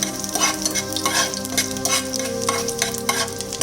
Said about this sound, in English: Now first add the garlic and saute it well.